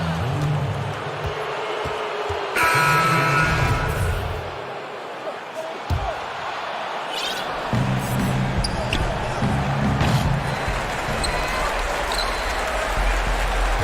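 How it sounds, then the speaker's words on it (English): Ball dribbling from an NBA basketball video game, with rhythmic thumping bounces running through steady arena crowd noise and a commentator talking over it. "they can just dribble the ball until the buzzer"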